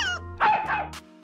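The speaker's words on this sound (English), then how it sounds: "I like to play with my puppy, Aston." A puppy lets out a couple of short, close barks and yips, loud and clear against a quiet background with no talking.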